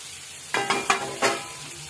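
Drumstick (sajne) flowers frying in oil, a soft sizzle under a few quick close scraping stirs of a spatula against the pan, about four strokes in a short burst.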